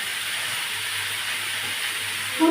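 Potatoes lightly frying in a pan for a Bengali home-style dish, giving a steady, even sizzle and hiss that holds without a break from start to finish, with no voices.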